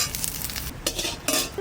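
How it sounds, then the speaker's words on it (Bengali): Green chillies and cumin seeds frying in leftover fish-frying oil, a brief steady sizzle with a couple of quick scraping stirs against the pan. "ওই তেলের মধ্যে দুটো লঙ্কা আর কটা জিরে ভেজে রেখে দেবো"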